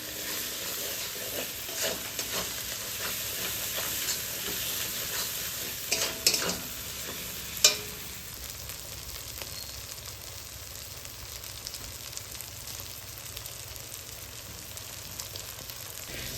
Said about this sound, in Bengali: এবার মশলাগুলোকে ভালোভাবে কষে নেব।